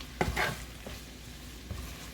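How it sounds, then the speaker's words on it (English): Pasta with onion, mushrooms, broccoli, garlic and brown butter stirred in a pan, a couple of scraping stir strokes over a soft steady sizzle, close and fairly quiet. "So let's go and just stir all of this up."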